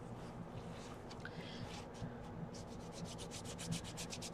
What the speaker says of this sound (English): You can't be doing all this rubbing and, you know, without ripping into the page.